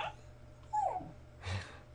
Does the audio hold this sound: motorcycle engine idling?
no